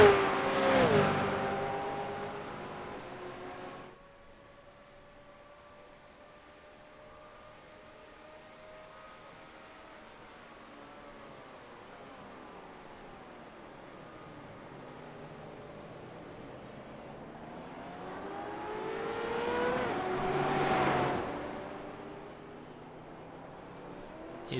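Supercars racing at Miami in the iRacing sim, with engine whines rising and falling in pitch as cars rush past, loudest at the start and again near the end, a softer sustained drone in between.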